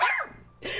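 A dog barks twice in quick succession, close and fairly loud, with a short gap between the sharp yips and no talking.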